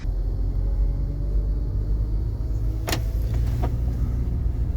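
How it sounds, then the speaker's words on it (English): A car drives along with a steady low road and engine rumble filling the interior, loud and constant, with a couple of brief clicks partway through. "let's test it out in my real car"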